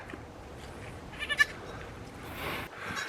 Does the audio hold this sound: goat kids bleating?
yes